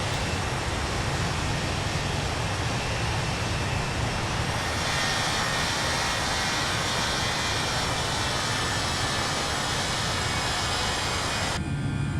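Airliner jet engines roar steadily during the climb after takeoff from London Stansted, a loud, continuous broadband rush that holds throughout before dropping in tone near the end.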